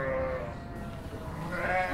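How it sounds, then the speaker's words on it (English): A Border Leicester sheep bleats loudly and close, with a wavering, drawn-out cry that swells again near the end over a noisy farmyard background. "Border Leicester sheep, typical breed that the pioneers would have had."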